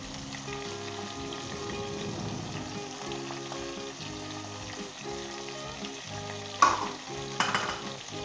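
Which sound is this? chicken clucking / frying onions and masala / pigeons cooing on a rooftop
frying onions and masala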